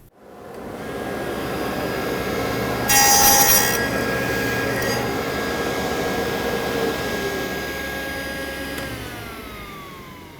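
A saw cutting a slot in a wood piece pushed through on a sled for finger joints, with a steady loud machine whine throughout and a brief harsher burst of cutting partway through.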